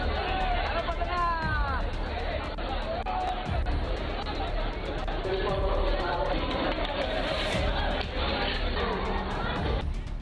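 A large, dense crowd gathered for the Makar Sankranti festival in India fills the air with a continuous hubbub of many overlapping voices, steady and close throughout, with occasional louder calls rising above the babble.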